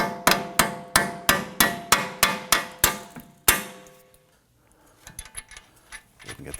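A hammer taps a lower strut bolt through on a 2003-2014 Volvo XC90 front suspension: about ten sharp, evenly spaced metallic strikes, close and loud, followed by quieter handling clatter.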